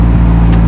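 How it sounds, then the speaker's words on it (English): An Alfa Romeo 4C engine sounds loud and close in a brief burst, its deep droning note shifting as the car downshifts, with no talk over it. "you can downshift to slow the car down even faster"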